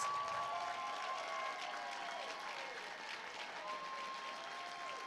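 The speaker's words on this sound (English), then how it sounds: "everyone give them a round of applause" An audience applauds past performers at a dance charity event, with continuous crowd clapping heard steadily, a faint tonal hum running beneath it.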